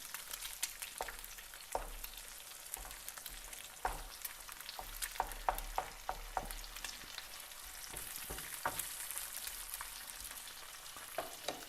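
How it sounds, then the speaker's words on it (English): Italian sausage and chili peppers fry in hot oil in a pan, giving a steady close sizzle with frequent sharp crackles and pops throughout, and no voices. "And then it's frying up."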